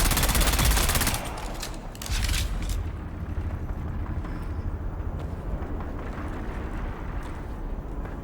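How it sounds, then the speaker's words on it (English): Gunfire in the video game Dune: Awakening, a dense loud burst of rapid shots in the first few seconds, then a second short volley, fading into a lower rumbling background. "I'm hearing a bit of gunfire out there."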